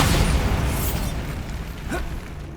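A Bombarda spell explodes in Hogwarts Legacy with a loud, full-bodied blast that rumbles and slowly fades over a couple of seconds.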